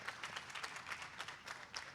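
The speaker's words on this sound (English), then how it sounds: "big applause for these guys" Soft, distant applause from a small audience at a tech camp event, scattered individual claps blending into a light, uneven patter for a couple of seconds.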